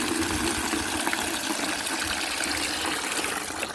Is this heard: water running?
yes